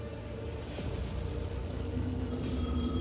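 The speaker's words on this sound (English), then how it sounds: "Answer the phone, answer the phone!" A telephone rings in the video game Alan Wake 2, a repeating electronic bell heard over a steady low game-engine drone and ambient hum for about three seconds.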